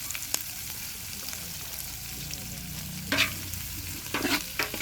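Onions frying in a pan for a large outdoor feast with friends give a continuous dense sizzle throughout, with a few louder scraping stirs near the end, close and unaccompanied by talk.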